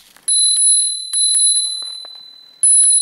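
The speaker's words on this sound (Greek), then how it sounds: "Λοιπόν, το κουδουνάκι ξέχασα." Crisp metallic bell on a Blaupunkt ESC910 electric scooter, rung close and loud in three quick rings with short ringing decays between them.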